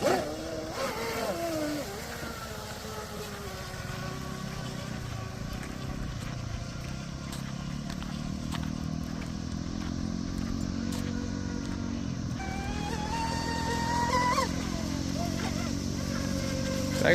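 An RC boat with a new Tenshock electric motor runs on water, a steady whining drone with rising and falling pitch as it moves, heard at a distance with a person talking over it.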